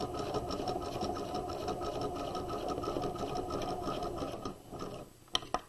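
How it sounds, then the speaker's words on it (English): A sewing machine runs steadily while back stitching across the lining of a tote bag, giving a close, rapid, even rattle that stops near the end, followed by a couple of sharp clicks. "I'm going to back stitch, stitch across that line to the other side"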